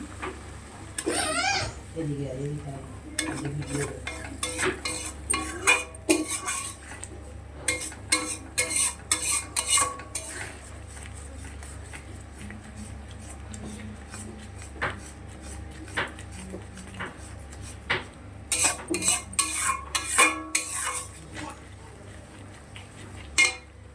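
Pomfret fish curry masala is worked in a pan with a spoon, producing bursts of clattering scrapes and taps against the metal that come and go over a low steady hiss, with a voice heard briefly near the start.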